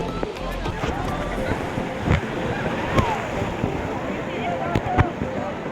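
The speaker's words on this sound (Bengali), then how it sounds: "বোট চলে এসছে, এবার আমরা বোটে উঠবো।" A boat pulls up to a jetty on the sea at Digha, its approach buried in a steady roar of surf and gusting wind noise on the microphone, with a few brief knocks and voices in the background.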